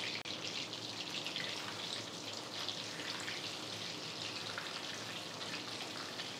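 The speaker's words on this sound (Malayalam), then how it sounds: "5 മിനിറ്റ് നേരമൊക്കെ മതി ഇത് ഫ്രൈ ആവാൻ" Chicken deep-frying in oil on a medium flame gives off a steady, even crackling sizzle that runs unbroken throughout, fairly soft and with no talking.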